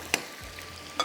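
Masala being roasted in a pan for gola kabab, a steady low sizzle with two sharp utensil clinks a moment apart, close and fairly quiet, with no talking.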